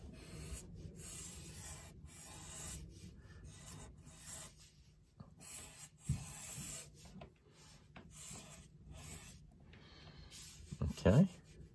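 Pencil lead rubbing across paper while drawing spiral shapes for a unicorn sketch, heard as soft close scratchy strokes in short repeated bursts with pauses, fairly quiet throughout.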